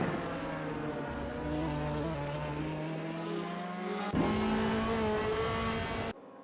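A Ferrari 458 race car in the Assetto Corsa racing game, its engine droning steadily and rising in pitch through the gears, with a sharp shift and louder revving near the end, heard alone without talk.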